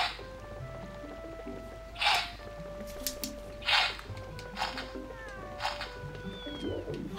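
A cat in Zelda: Twilight Princess gives several drawn-out meows, three or four distinct cries spread over a few seconds amid soft game music and faint plinking background tones.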